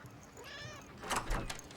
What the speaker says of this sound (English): I think your cat's here, too.